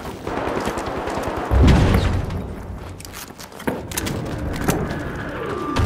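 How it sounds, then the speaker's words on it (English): A frag grenade blasts in the arena shooter game The Finals, a sharp booming hit near the middle of a busy mix of scattered gunfire and thuds. "Tossing a frag."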